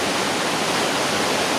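Waterfall roaring as a steady, loud, dense rush of water, close and continuous throughout with no voices.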